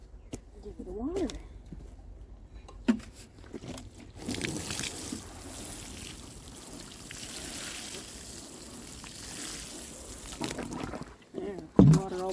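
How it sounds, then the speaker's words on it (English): Water pours onto the soil of a root-pruned blue spruce, a sustained splashing and trickling rush that builds after a few quiet seconds and fades near the end, with faint handling noises. "Water all the soil right out of it."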